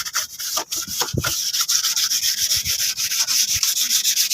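Wet sanding of motorcycle body paint with soapy water, a steady rasping rub of abrasive strokes on the panel, close and continuous with a few heavier scrapes, no voices.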